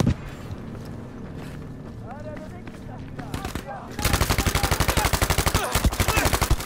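Rapid automatic gunfire from a heavy-recoil weapon in Battlefield V rattles in a fast, steady string of loud close shots after a stretch of game noise and talk.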